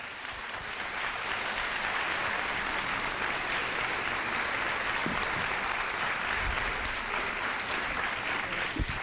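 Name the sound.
audience applause for pageant helpers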